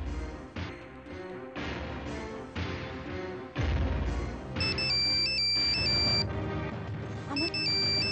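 An electronic phone ringtone plays a repeating melodic tune, loud and close, looping through several phrases over a thumping musical backing.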